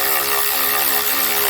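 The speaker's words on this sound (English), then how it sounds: "We'll just nip this nut up, or bolt up." A wrench ratchets close and loud, tightening a nut or bolt on a handmade chopper motorcycle in a brief burst of fast mechanical clicking.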